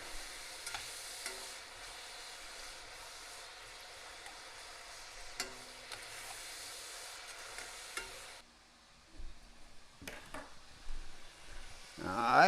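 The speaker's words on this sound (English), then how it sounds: "Kind of stir it around in that grease." Squirrel pieces frying in grease in a pot on a rainy day, a faint steady sizzle with occasional scraping stirs, then a quieter stretch broken by a few louder knocks and clatters near the end.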